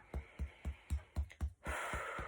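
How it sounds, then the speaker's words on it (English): Rhythmic deep breathing, each inhale and exhale repeating about every quarter second in a steady pattern, close and clear, followed by a longer broadband breath-like rush near the end. "Breathing deeply."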